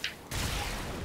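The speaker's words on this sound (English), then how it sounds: "Holy crap, that explosion." A blast in the video game Warframe erupts as a sudden broad roaring burst that stays loud and dense to the end, preceded by a brief higher-pitched sound and a short lull.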